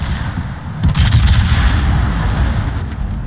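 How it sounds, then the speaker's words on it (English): Naval guns firing from a Des Moines heavy cruiser in World of Warships, a loud salvo of heavy booms and rumbling blasts that swells and then lingers in a dense roar. "There we go, shooting the DDs."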